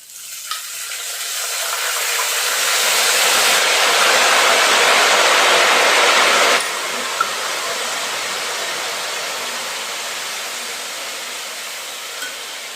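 Salt and turmeric water poured into hot oil of frying banana chips hisses in a loud, steady sizzle that swells for several seconds, then eases back to a softer, continuous fry with no voices.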